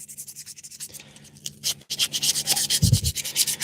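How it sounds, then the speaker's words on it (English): A power sander works a missed spot on a wood surface, giving rough rhythmic rubbing strokes that pause briefly and then resume louder and closer, with no talk. "I'm going to have to hit that on the sander again."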